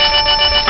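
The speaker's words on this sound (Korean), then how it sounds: "형님! 형님 전화 왔어요." Telephone ringing in a Korean home drama scene, a loud, continuous electronic ring filling the short moment, close and alone without talk.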